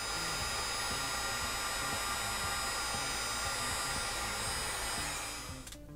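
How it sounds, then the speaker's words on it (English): A heat gun blows a steady, loud whooshing hiss at close range while shrinking heat shrink tubing on a DIY capacitor discharge tool, running continuously for several seconds before being switched off near the end. "We're going to take the heat gun to it."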